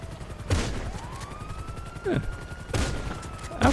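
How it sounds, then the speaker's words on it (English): Combat shotgun fire in a yacht-captain video game, several loud, sharp blasts spaced about a second apart, each with a brief tail, over a steady game background with a faint rising tone. "let me try the combat shotgun quicker"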